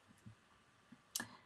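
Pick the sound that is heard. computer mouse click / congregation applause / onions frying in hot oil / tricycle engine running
computer mouse click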